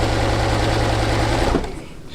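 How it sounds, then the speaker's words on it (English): A home sewing machine stitches quilt blocks in a steady, loud mechanical whir that runs continuously and then slows and fades near the end. "So I'm going to start stitching."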